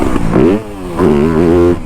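A 2025 Yamaha YZ250F dirt bike engine revs in two loud, close bursts, each rising and wavering in pitch before easing off briefly.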